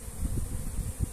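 Honeybees at a beehive buzz in a close, steady low drone, with the hum rising and falling slightly as insects move nearby.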